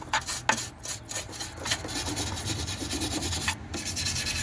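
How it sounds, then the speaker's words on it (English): A stiff stainless steel wire brush scrubs rust from a car battery tray on a Rover 45, giving a steady close rasping scrape with a few sharper strokes and no talking. "Let's go around with the wire brush."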